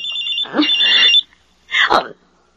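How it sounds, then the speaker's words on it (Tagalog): A cellphone rings in a Filipino radio drama, two loud electronic ringing bursts with a short gap between them, heard alone with no talk over them. "Si Alma, tumatawag sa cellphone ko"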